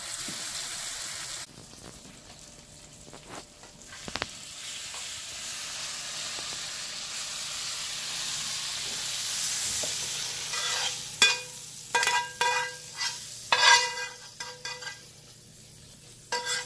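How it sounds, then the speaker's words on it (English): Beef stew ingredients simmer in a pan over medium-low heat, a steady soft sizzle and hiss throughout, broken by clattering utensil scrapes and stirring knocks toward the end. "Now I'm going to reduce the heat down to like a medium low and let that simmer for about 5 minutes."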